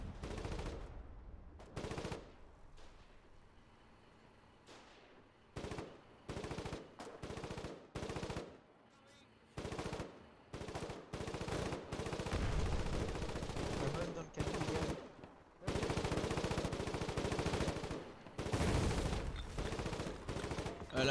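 A 12.7 mm machine gun fires in the Foxhole war video game, loud repeated bursts of rapid gunfire broken by short pauses, with other battle noise and some voices around it.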